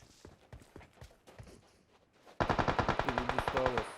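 Rapid automatic gunfire in PUBG on the Miramar map comes in as a loud burst of evenly spaced shots, with spaced single cracks before it. Players talk faintly in the background.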